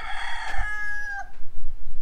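A rooster crows once at a rural travel stop, a loud, clear call with a rising then held tone lasting about a second, fading into quiet outdoor ambience.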